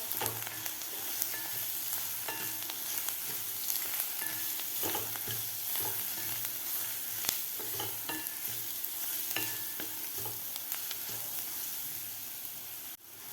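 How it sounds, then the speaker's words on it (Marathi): A ground paste of garlic, onion, ginger, coriander and dry coconut is sautéed in a pan, a continuous sizzle broken by frequent spoon-stirring scrapes and clicks, close and steady throughout with no voices. "आता वाटणसुद्धा आपल्याला व्यवस्थित परतून घ्यायचं आहे 2 मिनटं"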